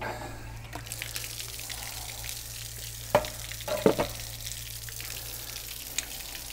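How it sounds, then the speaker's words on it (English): Water flows and splashes in a steady hissing stream from a travel trailer's hot water tank drain plug, close by, with a few clanks and knocks over the top. "there will be water coming out of it"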